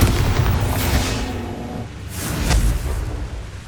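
A Bombarda spell explosion from the Hogwarts Legacy video game lands as a loud, deep boom with a sustained rumble, then a second burst swells about halfway through, with no voices over it.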